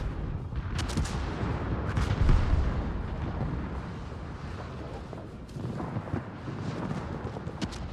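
Battleship gunfire in the World of Warships naval game, a British battleship firing: heavy booming salvos and deep rumbling blasts, several distinct shots under a constant roar of game noise.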